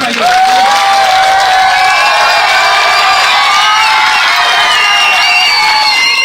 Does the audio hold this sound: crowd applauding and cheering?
yes